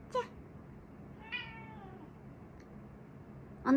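A kitten gives three short, faint meows spaced apart in a quiet indoor room, with a slightly louder cry at the end.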